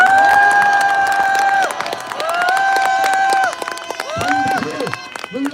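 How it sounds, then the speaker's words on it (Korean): A crowd at a Korean political rally claps and cheers for a speaker's wife, with clapping and shouts under loud tonal horn or whistle blasts and chanting voices, busy and close. "여러분, 우리 사모님이 힘을 낼 수 있도록 그게 박수 한번 주십시오."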